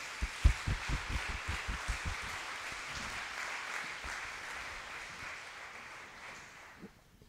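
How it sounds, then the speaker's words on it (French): Applause at a conference debate: a handful of distinct, loud claps at the start give way to a softer, blended clapping wash that thins and fades out over several seconds. "Sous les applaudissements, s'il vous plaît."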